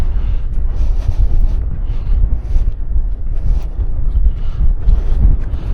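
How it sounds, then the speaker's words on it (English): Heavy wind buffets the microphone throughout on an outdoor walk at Holt Heath, a loud low rumble that swells and dips in gusts with no other sounds clear. "I wonder if my wind slayer is getting rid of that wind."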